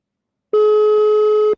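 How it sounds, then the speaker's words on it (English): A telephone sounds a single loud, steady electronic tone lasting about a second, clean and close, starting abruptly after silence. "The phone ringing."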